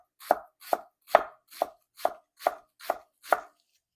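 A knife finely chops onion or shallots on a board in eight evenly spaced, crisp close strokes, with no talking.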